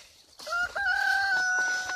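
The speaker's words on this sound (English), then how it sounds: "These are the chickens" A single chicken calls out close by, a short drawn-out tonal crow-like cry rising and holding for over a second.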